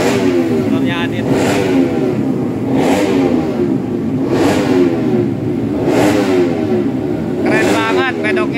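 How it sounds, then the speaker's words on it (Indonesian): A race motorcycle engine hums and revs steadily in a busy track paddock at Sentul, with a few rising throttle blips over a constant loud mechanical drone. "Motornya Adit"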